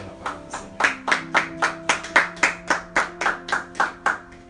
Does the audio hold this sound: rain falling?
no